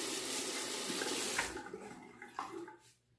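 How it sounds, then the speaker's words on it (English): Water drains noisily from a bathroom sink in a continuous rushing gurgle that cuts off abruptly, followed by a few softer splashes and drips as it tapers into near silence. "let me go ahead and drain this water now, and I'm going to wet my razor"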